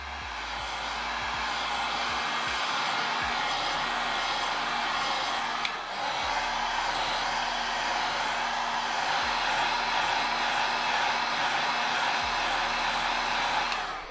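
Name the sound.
heat gun blowing on shoe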